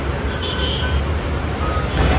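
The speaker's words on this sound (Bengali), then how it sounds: "ওভারব্রিজ থেকে গাড়ি ঘোড়া দেখতে ভালোই লাগে" Road traffic heard from a pedestrian overbridge, a steady broadband roar of passing buses and cars with no clear breaks.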